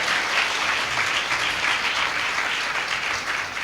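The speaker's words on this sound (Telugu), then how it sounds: "క్లాప్స్ కొట్టి గట్టిగా కొట్టమ్మా" A church congregation at a Sunday service claps loudly and continuously, a dense, even wash of applause with no break throughout.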